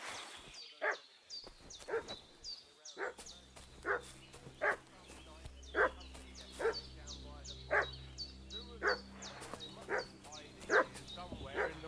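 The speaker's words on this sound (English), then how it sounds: "What's that dog making such a fuss about?" A dog in the video game Kingdom Come: Deliverance 2 barks over and over in a regular rhythm, loud and fairly close, with a low ambient hum underneath.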